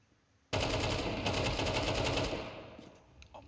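Rapid automatic gunfire in the video game Counter-Strike 2, a loud sustained burst of close shots lasting about two seconds that then fades into softer distant clatter.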